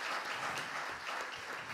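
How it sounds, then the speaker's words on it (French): Church congregation applauding during a Sunday worship service, a steady, moderately quiet wash of clapping from many hands that stays even throughout, with no voices over it. "Est-ce qu'on peut applaudir pour cette nouvelle?"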